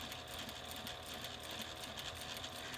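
A sewing machine runs a quarter-inch seam on a fabric slip pocket, its fast even stitching rattle faint and continuous throughout.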